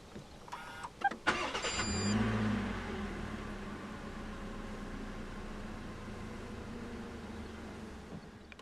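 A 2019 Perodua Aruz 1.5 X is started with its push-button ignition: a few faint clicks, a short crank and catch, then a steady, quiet idle with no talking.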